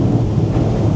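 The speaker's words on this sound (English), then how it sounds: "Skipping over those waves" A Voyager T2000 boat skips over rough waves at high speed into the wind, a heavy, dense low rumble of hull and water that fills the brief moment at close range.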